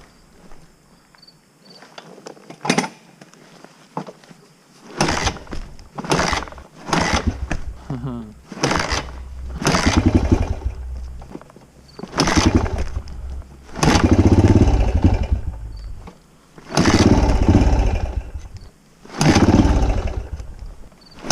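A dirt bike engine on a property trail starts after quiet footsteps and handling noises, then revs and rides in loud surges that rise and fall with gaps between, close to the rider, with a few words spoken early on.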